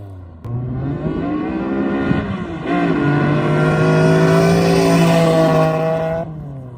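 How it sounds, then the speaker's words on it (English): A tuned Mitsubishi 3000GT drives past, its engine loud and close, revving up into a sustained, rising roar that holds for several seconds and then cuts off abruptly. "I'm gonna have him do a little pass by so we can see how this thing sounds"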